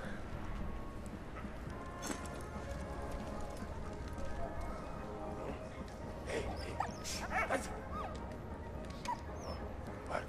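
Dog barks and whimpers from the World War I trench game Valiant Hearts, scattered short yelps over a busy game soundscape with hoof-like clopping, no talking.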